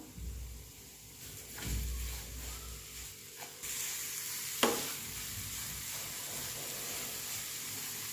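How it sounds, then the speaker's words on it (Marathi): Sugar stirred into bottle gourd halwa in a hot pan gives a steady close sizzle with scraping stir strokes and a few louder clatters, no voices. "आता याच्यामध्ये आपण साखर टाकून घेणार आहे"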